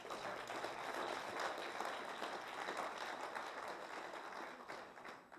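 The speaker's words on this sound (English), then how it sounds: "Give her a round of applause" Applause from an evening audience at a Les Brown speaking event at Westlake, a sustained wash of clapping from a crowd, fairly distant and steady throughout.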